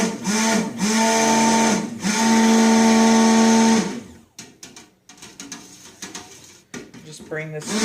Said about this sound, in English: I'm going to burp my blender.